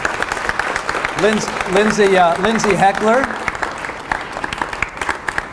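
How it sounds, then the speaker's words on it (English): An audience applauds law students as they are called up, a dense patter of clapping running throughout while a voice speaks briefly over it. "let's give them a round of applause."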